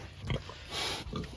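Pig in a muddy pig pen, giving a few short close grunts and snuffles against a low background of farmyard noise.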